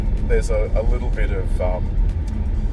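Low rumbling road noise inside a Nissan Qashqai ST-L cabin on a not-so-smooth road surface, running steadily beneath someone talking close to the microphone.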